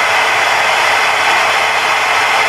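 A 3 kW GMT spindle motor driven by a Fuling inverter runs at high speed, giving a loud, steady, airy whir and hiss that holds evenly without pause.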